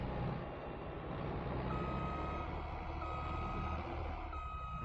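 Repeated truck reversing beeps in Farming Simulator 22, a steady series of high tones over a low diesel engine rumble, with no talk.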